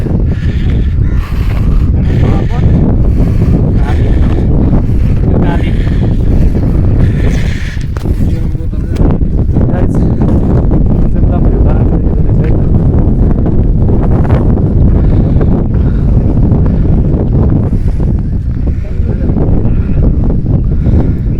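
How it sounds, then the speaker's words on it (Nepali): Strong wind roars across the microphone without letup, a loud, dense rush that gusts and buffets throughout. "बतासे डाँडामा हावा बतास एकदम चलिरहेको त गाइस"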